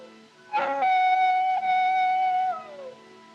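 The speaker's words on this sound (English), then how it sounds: "Them coyotes give me the creeps. It sounds, well, it sounds just like a baby." A single coyote howls in a long, wavering wail that rises sharply, holds steady, then slides downward and fades, alone in an otherwise quiet night scene of a Western.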